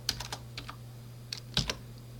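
Someone types code on a computer keyboard in TempleOS, a short run of about eight crisp, close keystrokes in two loose clusters, with no voices.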